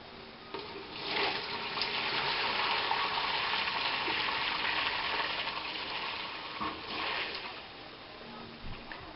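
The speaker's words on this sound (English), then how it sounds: "Now that the ground beef is finished cooking, I'm just going to drain the stock off." Hot liquid stock from cooked ground beef pours and gushes out in a steady stream, with two brief louder surges, fairly quiet and with no talking.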